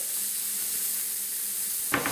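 A thick beef patty fries in a grill pan with a steady, soft sizzle and hissing wash, a brief clatter near the end; no voices.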